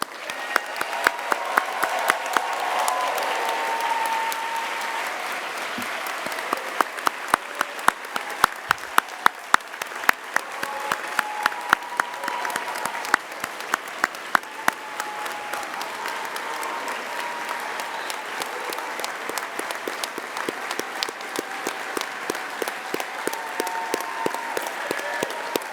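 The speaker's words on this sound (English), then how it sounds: "let's applaud for the class of" An audience at a medical school white coat ceremony applauds the incoming class in a long, steady wash of clapping in a large hall. Sharp individual claps stand out close by, and the applause runs without a break.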